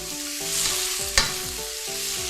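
Cabbage stir-fries in a pan over medium heat, seasoned with soy sauce, sugar and salt, giving a continuous close sizzle with one sharp tap, under faint steady tones and no talking.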